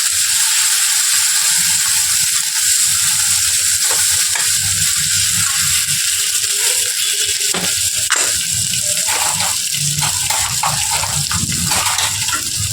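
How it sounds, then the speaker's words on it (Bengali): Spice paste of Kashmiri chilli powder and tomato sautéing in a pan, a steady close sizzle and frying hiss running throughout with occasional stirring scrapes, no voices. "মশলাটা ভালো করে কষে নিতে হবে অনেকক্ষণ ধরে।"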